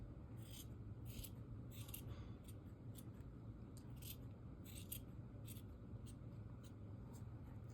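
Scissors snip yarn while trimming a jumbo pom pom made on a Clover pom pom maker, a series of faint, quick, irregular cuts close by over a steady low background hum.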